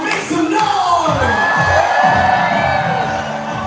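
Concert crowd cheering, whooping and yelling together in a loud, sustained wash of voices, close and energetic.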